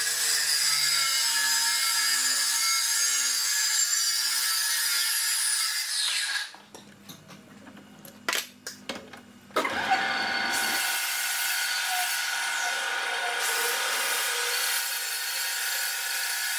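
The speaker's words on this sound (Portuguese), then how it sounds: "Agora eu vou tirar, vou cortar ele aqui, vou fazer um bisel" Power tool cutting a metal rod to make a bevel, heard as a loud continuous whining grind that drops out into a lower rumble with clunks midway before the harsh cutting resumes.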